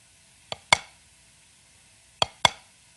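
Two drum flams played too wide on a snare-like surface, each a grace note and main stroke spaced noticeably apart, sharp and close in a quiet room.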